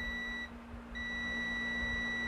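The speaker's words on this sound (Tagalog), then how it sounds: "Yan, nag-buzzer siya." A steady electronic buzzer tone from a motorcycle sounds twice, a short burst then a longer continuous one after a brief gap, over faint background hum.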